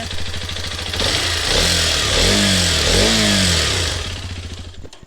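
A Hero XPulse 210 motorcycle engine idles, then revs up twice in quick succession, the pitch rising and falling before settling back down. The engine is close and loud.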